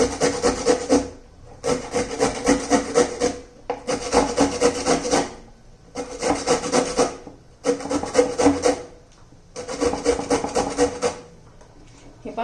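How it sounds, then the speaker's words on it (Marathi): Radish grated on a fine grater: six steady bursts of close, rasping strokes separated by short pauses, loud and dry with no talking. "आणि मग किसून घ्यायचं आहे मुळा आपल्याला असा बारीक किसने किसला तरी चालेल"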